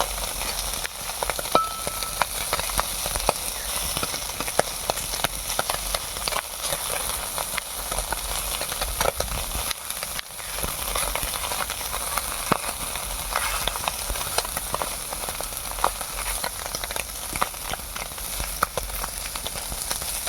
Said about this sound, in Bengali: দেখতে পাচ্ছেন পুঁটি মাছ ভাজা।